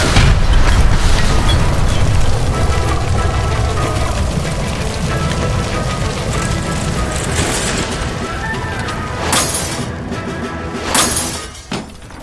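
A gas line blows up in L.A. Noire, a loud, sustained roaring blast with shattering debris that stays dense for several seconds before easing, followed by a couple of sharper crashing bursts near the end.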